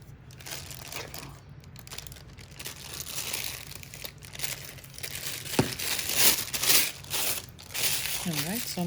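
A plastic piping bag crinkles and crumples in close-up as stiff icing is loaded into it for outlining cookies, with soft, uneven handling noises throughout.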